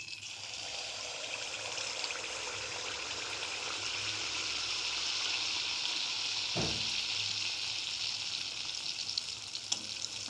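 Malpua batter fries in hot oil, a steady close sizzle and bubbling crackle that builds slightly, with a brief soft knock of a utensil midway.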